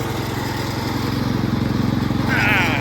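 A Cub Cadet 122 garden tractor engine runs close by with a loud, steady, throbbing chug, swelling slightly near the end as the tractor is moved toward a garage.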